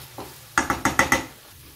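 Chopped bacon in a pan, stirred with a utensil: five quick scraping knocks in a row over a faint background sizzle, close and loud.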